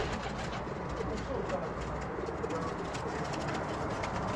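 Pigeons coo on a rooftop loft, repeated soft murmuring calls layered over a steady outdoor hum, with male birds, young and females gathered close by and no talking.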